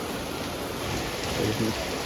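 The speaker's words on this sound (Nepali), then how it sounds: "अहिले पनि पानी धेरै आएको छ होइन" Steady rain falls in a dense, even hiss, with a brief faint voice partway through.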